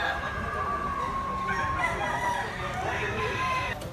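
A rooster crows in the distance, drawn-out and wavering, over a steady background hum with faint voices, in rural Consolacion, Cebu.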